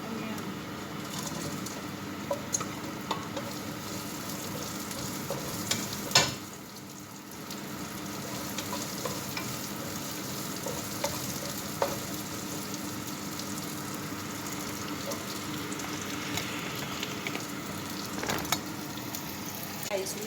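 Chopped onion frying in a pan for chicken calderita, a steady close sizzle and crackle running throughout with occasional stirring knocks, with faint background sounds.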